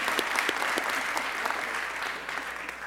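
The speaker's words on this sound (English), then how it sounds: "I think that deserves a round of applause" Warm applause rises from the audience in a city council chamber, many hands clapping steadily and close, slowly tapering toward the end with a light crowd murmur underneath.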